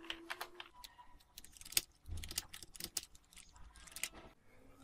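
Quiet, irregular tapping of computer keyboard keys, in small bursts with brief pauses, as text is typed into code. There is no speech.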